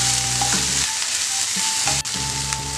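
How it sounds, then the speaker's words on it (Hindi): Garlic paste sautéing in a hot pan for chana masala makes a loud, dense sizzle that persists without a break, with a brief clatter of a utensil near the end. "अब इसमें लहसुन की पेस्ट भी डाल देती हूँ, 1 चम्मच के बराबर की लहसुन की पेस्ट। इसको अच्छी तरह से सोते कर लेते हैं।"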